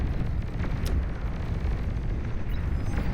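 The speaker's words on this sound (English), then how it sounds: "an energy storage explosion will be what does it in" Energy storage explosion in the real-time strategy game Beyond All Reason, a dense, continuous rumbling roar of detonation and battle noise holding loud and steady throughout, with no one talking.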